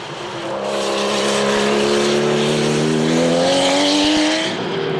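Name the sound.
classic race cars on track at Le Mans Classic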